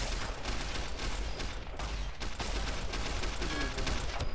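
Heavy gunfire rattles through a Fallout video game battle at Helios One, a dense, continuous barrage of overlapping shots with brief dips, loud and unbroken across several seconds.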